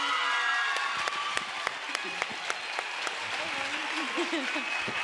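Audience applause for the newly named child queen of the San Roque Royal Fair, sustained clapping with sharp individual claps, while voices speak over it.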